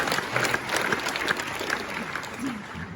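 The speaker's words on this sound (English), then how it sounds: "just a round of applause for all of our teachers, administrators, and" A room full of people at a school reunion banquet claps steadily in sustained applause, even and continuous throughout, with a few scattered voices mixed in.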